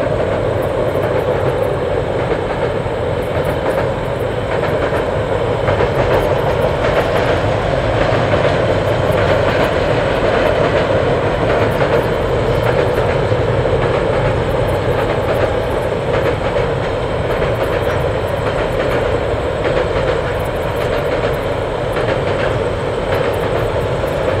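Refurbished KiwiRail EF electric locomotives roll along the line, a loud, sustained rumble and rolling roar of wheels on rails with faint clicking, steady for the whole stretch and heard alone.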